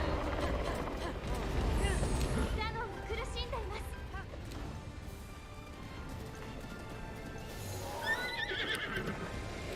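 Horses whinny and neigh in the video game Breath of the Wild, with several rising calls and some clip-clop of hooves, mixed under ongoing commentary talk.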